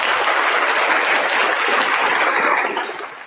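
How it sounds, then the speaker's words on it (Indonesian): Audience applause in a crowded hall, a dense continuous wash of clapping that holds steady and then begins to fade toward the end. "Tepuk tangan buat Tuhan."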